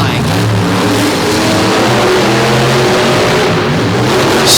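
Two heavyweight modified pulling trucks of about 13,000 pounds each, competing side by side at a DuQuoin pulling show, roaring continuously at full throttle as one loud, dense, unbroken engine drone.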